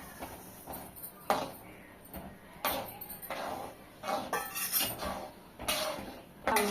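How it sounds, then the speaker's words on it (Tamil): A spoon stirs a rava and potato mixture in a pan, giving intermittent metallic scrapes and clinks at a moderate distance, fairly soft overall. "உப்புமா மாதிரி கிண்டிக்கிட்டே இருக்கணும்."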